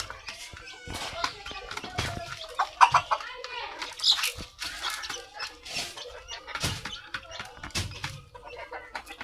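Hens cluck and squawk in short bursts close by, with a person talking over the busy flock as they are given feed and maize.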